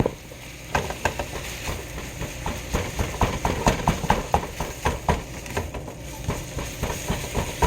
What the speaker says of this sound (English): Alright, so we have our hamburger meat here cooking. Let's give that a good stir.